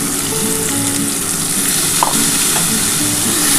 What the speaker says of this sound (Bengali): এই যে মশলার যে জলটা আছে এই জলটা দিয়ে দিলাম